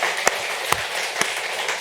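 Claps ring out in a church congregation at a Sunday night service, three distinct sharp beats standing above a continuous, dense bed of crowd sound, with no voices on top.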